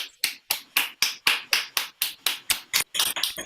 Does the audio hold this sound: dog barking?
no